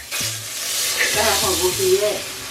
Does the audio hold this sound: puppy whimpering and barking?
no